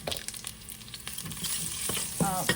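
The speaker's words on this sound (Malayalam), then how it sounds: "ഇനി അതിലേക്ക് ഞാൻ ഒരു 1/2 ടേബിൾ സ്പൂൺ ഗരം മസാല ഇട്ട് കൊടുക്കുകയാണ്." Garam masala fries in a Kerala-style beef curry, a soft close sizzle under brisk stirring, with a spoon scraping and tapping against the pan a few times.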